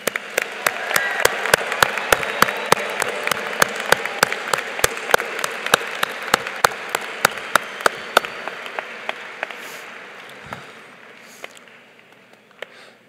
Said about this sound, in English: Audience, please join me in applauding the class of 2022 for all their amazing service